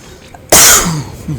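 A single sharp, loud cough bursts out, followed by a fading rasp and a quiet breath.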